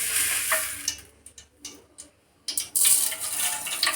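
A small amount of oil heating in a kadai for gongura chutney gives off a light sizzle and soft crackle, fading in and out with a few faint ticks and near-quiet gaps before the sizzle returns strongly.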